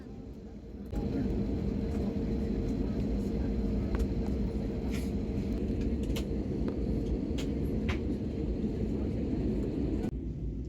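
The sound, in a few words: IndiGo passenger flight starting to move for take-off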